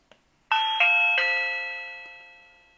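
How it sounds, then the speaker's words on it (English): A Reolink WiFi video doorbell plays its chime: three bright, ringing bell tones in quick succession, loud and close, then a long clean decay into silence. "And that is the sound of the doorbell."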